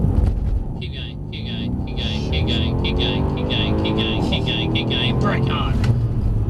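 Mercedes-AMG car accelerating at full power on a driving experience at Brooklands, London: a loud, rising engine roar heard from inside the cabin as revs climb and shift, with a person talking over it.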